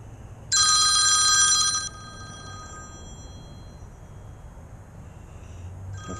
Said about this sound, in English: The fucking phone is ringing